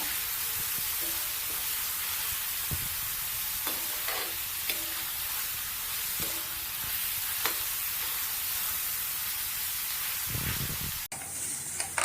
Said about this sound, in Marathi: कांदा आपण तांबूस रंगाचा होईपर्यंत परतून घ्यायचा